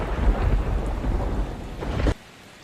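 Heavy rain and rumbling thunder of a thunderstorm, loud and continuous, then cutting off abruptly near the end.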